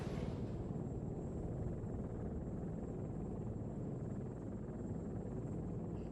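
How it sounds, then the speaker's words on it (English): Helicopter from the video game Arma 3 flying steadily, a continuous loud low rotor and engine rumble that fills the whole stretch without a break, with no talking over it. "I really like this chopper because it's able of making really sharp turns and recover from them quite quickly."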